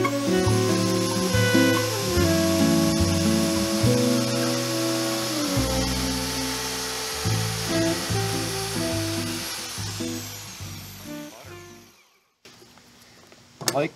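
A Vevor portable bandsaw whines loudly as it cuts through 3-inch PVC Schedule 40 pipe, the motor pitch dropping under load through the cut before the blade runs down and stops near the end.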